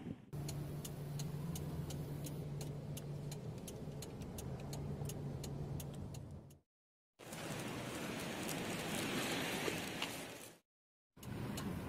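Steady road noise from a car driving home, a constant wash of tire and engine rumble with faint rhythmic ticking, cut by two brief silent gaps.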